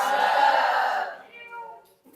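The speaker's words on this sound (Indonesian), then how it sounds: "Itu kucingnya siapa ya?" A cat lets out one long, drawn-out meow close by that trails off into fainter, wavering tones, with a brief murmur of voice at the very end.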